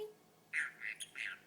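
A pet bird named Kai, kept at home, gives a quick series of raspy squawks and chirps, three or four short bursts close by in a quiet room.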